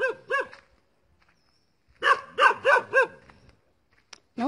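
A rescued dog barks close by: two quick barks, a pause, then a run of four barks, and one more bark at the end. No one speaks over them.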